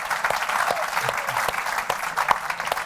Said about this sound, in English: The person with the loudest round of applause gets the gift.